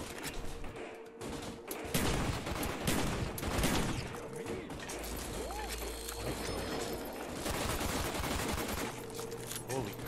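Rapid, sustained gunfire at zombies in a Call of Duty custom zombies mansion map, with a dense stream of shots that stays moderately loud throughout while players talk over it.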